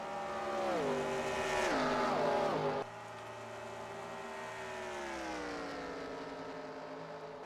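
Race cars in NASCAR Racing 2003 slowing onto pit road during an Xfinity race at Homestead, engines whining and dropping in pitch as they pass, with a second, steadier engine drone taking over midway.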